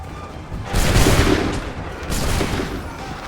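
Two loud, crackling musket volleys ring out in Assassin's Creed III Remastered, each a dense cluster of near-simultaneous shots from a line of soldiers, with a low rumble fading between them.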